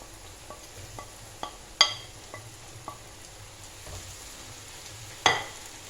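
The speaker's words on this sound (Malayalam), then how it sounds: "പൊരിച്ചെടുക്കാം." Snack pieces fry in hot oil, a soft continuous bubbling sizzle punctuated by several crackling pops and two louder spits, close and fairly quiet, with no talking.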